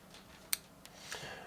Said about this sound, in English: if your tips aren't fitting properly, you can use your scissors just to nip off the corners